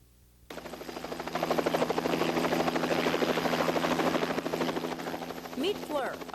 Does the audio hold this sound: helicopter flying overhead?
yes